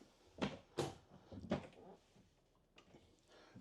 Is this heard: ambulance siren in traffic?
no